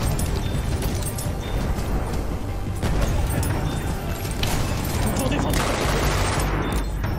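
Rapid gunfire in a Battlefield 1 match, a near-continuous loud barrage of shots with bursts of explosions and rumble, sustained over several seconds.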